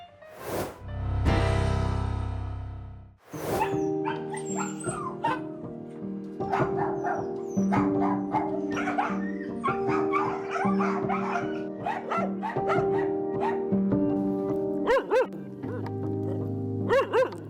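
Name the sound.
dog barking and yipping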